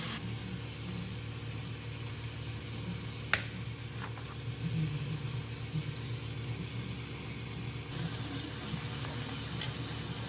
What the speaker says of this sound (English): So the meatballs are cooking away